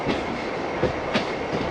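A MEMU passenger train running from Ernakulam toward Kottayam, heard from inside, with a steady rumble and rhythmic clickety-clack of wheels over rail joints, close and continuous.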